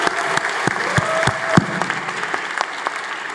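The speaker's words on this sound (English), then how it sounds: "give them a big hand of applause" At Atlantis University's 2022 commencement ceremony, an audience applauds the graduates with a sparse, uneven patter of individual claps that keeps a moderate level throughout.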